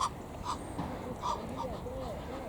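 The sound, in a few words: seagulls calling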